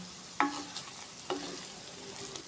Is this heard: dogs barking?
no